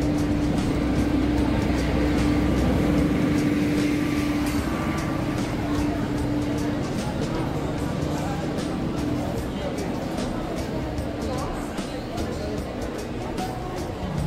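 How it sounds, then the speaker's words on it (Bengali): A train pulls into a station with a low, continuous rumble and a droning hum that slowly eases off over the span, heard fairly close amid ambient platform noise. "ট্রেন চলে এসেছে।"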